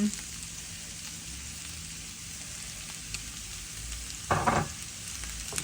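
Onions sizzle gently in a pan while frying golden for onion sugar sambal, a faint steady hiss close by, broken near the end by a short burst of louder stirring as chili flakes go in.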